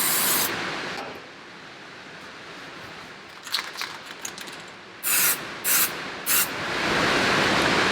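Aerosol can of crack-detection dye sprayed onto a weld: a long hissing spray at the start, then scattered handling clicks, followed by three short sharp bursts and a final sustained hiss, close and fairly loud.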